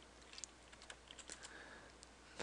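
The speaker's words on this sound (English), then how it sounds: "Now let's type up our message." Steady typing on a computer keyboard during Java coding, quiet close key clicks in an uneven run with scattered sharper taps, no voices.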